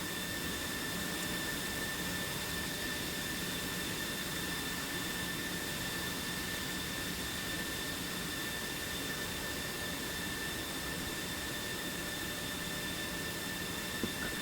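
Jet engines of aircraft taking off in a flight video game hold a steady, even roar with a high whine for the whole stretch. The roar sounds close and unbroken, with no talking.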